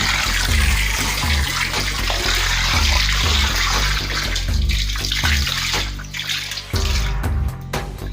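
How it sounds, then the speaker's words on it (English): Water broadcast by hand from a container into a fish farm pond, a loud continuous splashing pour that thins to trickles near the end. "I'm going to pour this water content into the pond in a broadcast manner."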